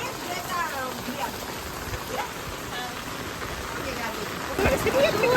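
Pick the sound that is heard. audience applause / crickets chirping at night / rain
rain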